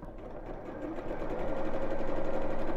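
A sewing machine stitches a drawstring bag, its steady motor hum and rapid needle rhythm running continuously and growing slightly louder, close and alone with no talking.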